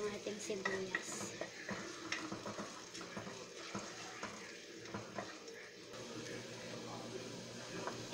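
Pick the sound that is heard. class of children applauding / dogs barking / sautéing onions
sautéing onions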